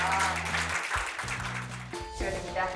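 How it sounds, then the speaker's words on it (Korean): Audience applause fills a Maxim Coffee Cup Go tournament award ceremony, a steady crowd clapping over low background music with no break. "박수 부탁드립니다."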